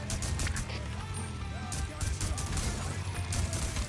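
Rapid video game gunfire crackles in dense bursts over a constant noisy background, sounding busy and moderately loud.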